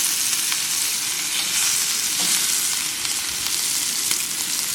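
A bacon burger patty cooks in a pan with an even, unbroken sizzle that holds steady throughout, close and moderately loud, with no voices.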